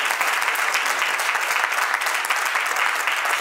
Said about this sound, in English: Can y'all give him a hand clap?